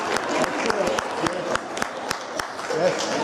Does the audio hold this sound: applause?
yes